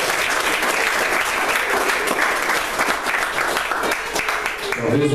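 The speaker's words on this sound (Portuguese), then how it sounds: "Dá uma forte salva de palmas." A church congregation breaks into strong applause after a sermon, dense sustained clapping filling the room at close range, with voices mixed in beneath it and a cheer or call near the end.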